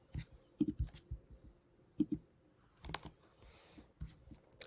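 Computer keyboard keys are pressed in irregular bursts of quiet, close clicks and taps, with brief pauses between groups of strokes.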